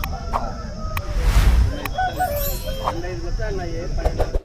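Roosters crow and hens cluck amid a busy crowd at a Saturday poultry market in Mydukur, with people talking throughout and a loud burst of noise partway through.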